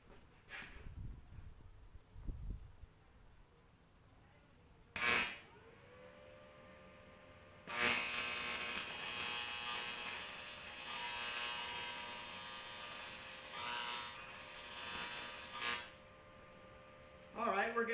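Stick welding with a 7024 electrode on steel practice material produces a long steady crackling buzz that lasts several seconds, preceded by short strikes and clatter and ending abruptly before a brief final burst.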